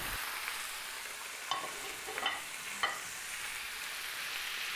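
Meat and vegetables fry together in a thin hot pan, a continuous bright sizzle with a few sharper crackles and stirring scrapes spread through it, close and alone without speech.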